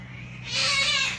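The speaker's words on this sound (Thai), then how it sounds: "ตอนนี้แมวก็ร้องนะ เงียวเงาเงียวเงา" A single cat's meow during mating season, rising into a strained, drawn-out yowl that swells louder toward the end, heard alone with no talking.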